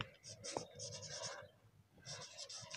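A pen scratches across paper in quick bursts of strokes, close and quiet, with short pauses between bursts and a faint murmur of voice underneath.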